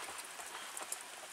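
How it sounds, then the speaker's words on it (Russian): Steady rain falls outside, heard as a soft, continuous hiss with a few faint drop ticks, low in level and without voices. "дождь на улице совершенно нехорошо"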